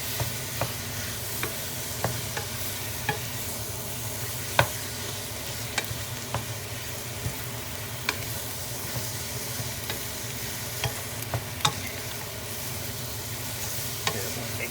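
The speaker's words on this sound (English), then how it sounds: "Put the meat in. Stir, break it all up." Beef mince is stirred and broken up in a thermal cooker pot. The meat gives a steady low sizzle, and a spoon scrapes and taps the pot at irregular intervals.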